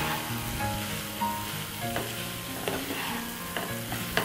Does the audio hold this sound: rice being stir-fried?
yes